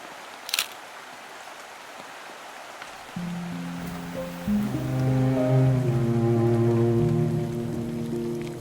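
Rain falls on the Izu Peninsula in Japan beside a river, a soft steady patter and hiss, joined partway through by sustained melodic tones that carry on to the end.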